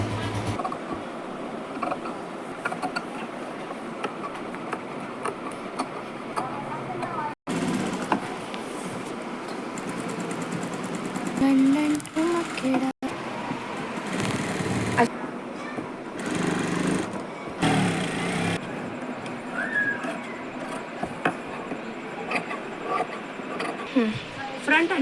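A sewing machine joins the front and back panels of an organza frill frock: a steady, close mechanical whirring that runs in long stretches with brief stops, under continuous talk.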